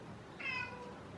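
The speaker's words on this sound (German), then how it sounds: "Katze raged hier gerade durch die Gegend, weil die Türen zu sind." A house cat shut in by closed doors gives a single short meow, faint and somewhat distant against quiet indoor background noise.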